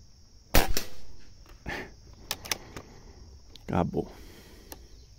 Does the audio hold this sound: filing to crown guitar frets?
no